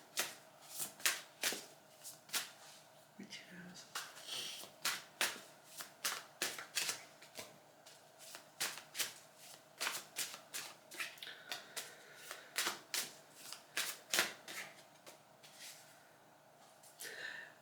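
Tarot cards are shuffled by hand in a long series of crisp riffles and slaps in an uneven rhythm, close up and fairly quiet, with no one speaking.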